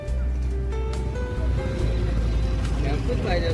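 A steady motor rumble from an auto rickshaw in busy street traffic, with engine drone throughout and faint horn-like tones.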